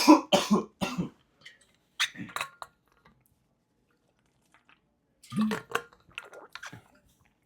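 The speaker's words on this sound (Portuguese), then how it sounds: "Quando a tosse vem, não tem como parar." Someone with an uncontrollable cough lets out short, close coughs in two brief clusters separated by near silence.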